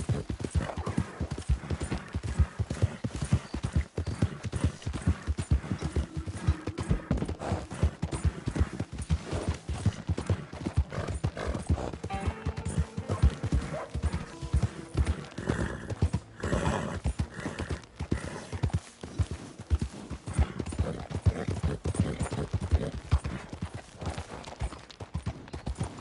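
Horse hooves gallop in Red Dead Redemption 2, a fast, steady clip-clop rhythm running throughout with occasional neighs and whinnies over a busy game soundscape.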